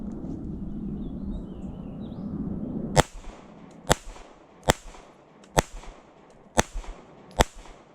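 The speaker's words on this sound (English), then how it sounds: "That's the first mag I went through with these flat noses." A Fusion Firearms XF Pro pistol fires 147 grain flat nose rounds at a range, six sharp, loud shots spaced about a second apart after a few seconds of low rumbling background noise.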